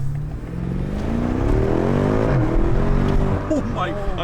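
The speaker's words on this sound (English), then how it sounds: "For such a big car, this thing just takes off so fast." A BMW M5 F90's powerful engine roars and revs hard, its pitch climbing steadily as the big car accelerates, loud and close throughout.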